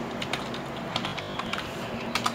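Rapid, irregular clicks of fingers typing on a computer keyboard during a typing speed test, close and clear with no talking over it.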